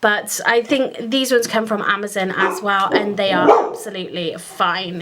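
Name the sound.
dog barking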